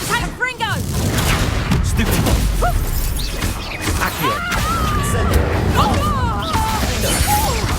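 Confringo blasting spell explosions in Hogwarts Legacy, loud repeated cracking blasts and shattering crashes in a dense battle mix, with voices and grunts over the top.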